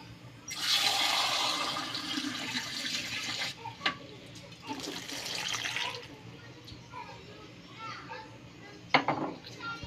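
Water runs and splashes into a cooking pot for soup, loud and close in two long pours with a short gap between, while children play and chatter in the background.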